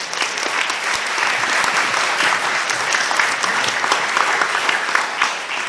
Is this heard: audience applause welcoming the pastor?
yes